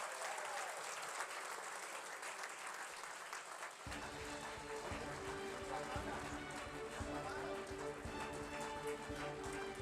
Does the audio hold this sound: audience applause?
yes